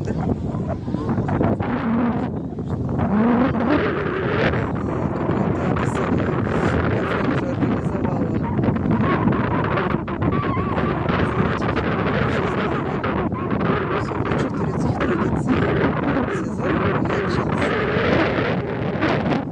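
Strong seaside wind in Antalya rumbles and buffets continuously at close range, with faint voices partly masked beneath the roar.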